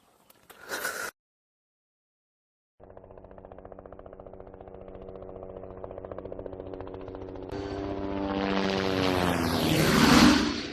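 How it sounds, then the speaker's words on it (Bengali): A helicopter's rotor thumps start as a rapid rhythmic pulsing after a short silence and grow steadily louder and fuller, as if the aircraft is approaching overhead, with a roaring whine building near the end. "এই শালার এটাই হেলিকপ্টার"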